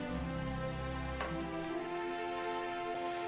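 Onions cook in a pan for a meat-free onion gravy, giving a soft, steady sizzle that stays faint beneath a sustained low hum, with no talking.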